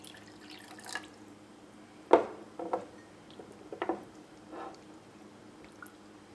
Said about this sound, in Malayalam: ഇതിലേക്ക് നമുക്ക് വെള്ളം ചേർക്കാം.